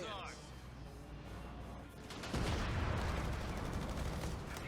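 Machine gun fire in a real-time strategy game, rapid bursts of distant gunfire that swell in the second half over a steady battlefield rumble.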